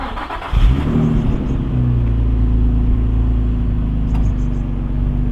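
A Nissan 350Z fires up and revs through its exhaust, a loud close rumble that surges at startup and then settles into a steady, throaty idle with a brief blip near the end.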